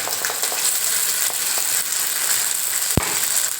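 Ground roasted masala paste sizzling in a pan of fried onions for a fish-head and mango fish curry, a loud, steady hiss with crackles and a single sharp clack of a spoon against the pan near the end.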